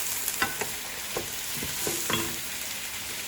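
Green chilies stirred into a frying mixture in a pan for Lubia Polo, a low steady sizzle under irregular scraping and tapping of the spoon, close and moderately loud.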